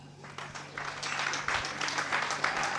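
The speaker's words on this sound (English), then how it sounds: "let's give them a hand clap." An audience applauds at a university fireside conversation event, a swelling patter of many hands clapping that builds over a few seconds, with faint voices mixed in.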